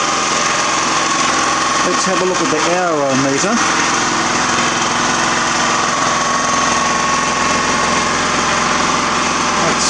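A freshly started engine runs on a torrefaction system, droning steadily and loudly with a rough, buzzing texture from start to finish while someone speaks over it.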